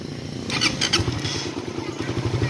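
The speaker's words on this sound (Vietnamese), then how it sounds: "để cho các bạn nghe về tiếng máy của xe nha" A Suzuki Satria 2020 motorcycle engine idles steadily close by, a low rhythmic putter with a slight rise in the middle and no voices.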